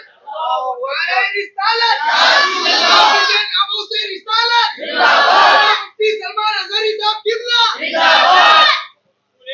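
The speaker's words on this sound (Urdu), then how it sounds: "حضور پاک صلی اللہ تعالی علیہ وسلم کی محبت میں نعرے لگائے" Large crowd at a Sunni religious gathering in Arsikere, Karnataka, chanting slogans in praise of the Prophet, loud and close, rising in three massed bursts of shouting between stretches of a single voice.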